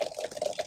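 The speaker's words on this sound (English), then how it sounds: "A lot of water's dripping over here." Water drips and trickles steadily from pipes in a homemade backyard waterpark, a close, wet patter with an uneven rhythm and no voices.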